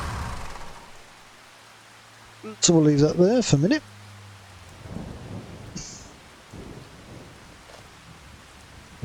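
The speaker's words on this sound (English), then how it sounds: "So it's raining, so you can cultivate in rain" Rain falls with rumbling thunder in the Farming Simulator 25 video game, a soft constant patter with a low roll, while someone talks over it through the middle.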